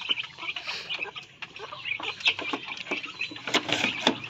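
Rhode Island Red chickens cluck and chatter close by, a busy run of short clucks and squawks with no talking.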